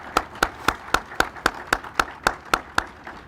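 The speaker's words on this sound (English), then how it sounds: "How about a round of applause for Air Force ROTC?" Slow, evenly spaced claps, about a dozen in a steady rhythm, for Air Force ROTC at a ribbon cutting ceremony for a center serving military-connected students. The claps ring out crisp and close over a quiet background.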